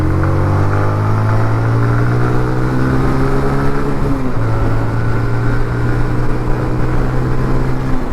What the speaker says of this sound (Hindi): देखो गाड़ी तीसरे गियर पे, देखना कैसे भागेगी।